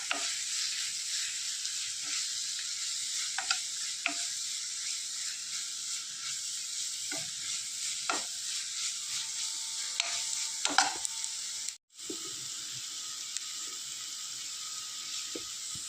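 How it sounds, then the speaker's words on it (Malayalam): A spoon stirs coriander powder and meat masala in a pan for egg curry, giving intermittent scraping clicks over a steady low sizzle, with a brief silent gap partway through. "എല്ലാം കൂടെ ചേർത്ത് നന്നായിട്ടൊന്ന് ഇളക്കി യോജിപ്പിക്കുക."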